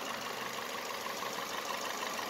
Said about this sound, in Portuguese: o motor está funcionando